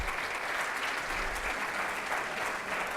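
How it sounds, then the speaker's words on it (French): Audience applause at an insurance agents' congress in Monaco, a loud, dense, continuous wash of clapping from a large crowd as a fund manager is called up. "On applaudit très fort"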